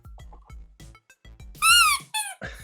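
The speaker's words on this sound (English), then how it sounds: "Got the squeaky hamburger." Squeaky hamburger toy squeezed as a game show buzzer, two loud close rubbery squeals with a quick wavering pitch, after a run of softer thumps and clicks.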